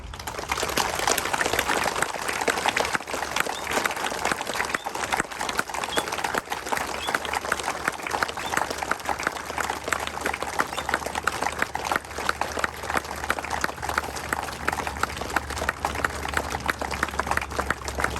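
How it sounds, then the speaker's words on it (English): Sustained crowd applause at a rugby match honouring front rower Harry Campbell, man of the match at Captain's Flat, a dense steady clapping that carries on unbroken for the whole stretch with no voices over it. "I want you to give a minute of applause."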